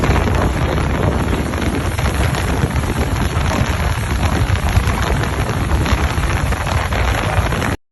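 Hail pounding down amid gusting wind during a storm in Saudi Arabia, a dense, steady roar of ice striking surfaces with heavy wind buffeting the microphone throughout, ending abruptly.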